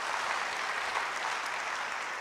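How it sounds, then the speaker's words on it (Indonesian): Steady applause from a church congregation clapping together, a dense even patter of many hands filling the space at moderate volume with no voices over it. "Yang setuju tulus beri tepuk tangan bagi dia."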